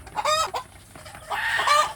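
A free-range village hen clucks and croons as it settles into its nest to lay eggs, giving two close, loud, drawn-out vocal phrases separated by a short pause.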